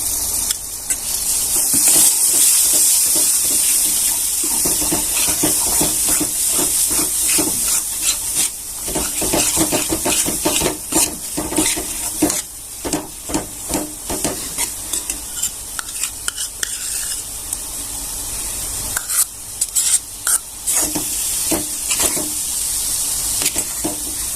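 Thick milk cream is stirred into roasted semolina in a pan, giving a loud continuous sizzle with rapid scraping strokes of the spoon that grow choppier toward the end.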